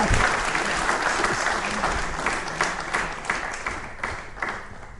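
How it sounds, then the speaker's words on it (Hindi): Audience applause at a constitution quiz show event, a dense, loud wash of clapping with a few sharper individual claps standing out, slowly tapering over several seconds, with faint voices underneath. "तालियां बजाइए इनके लिए भी"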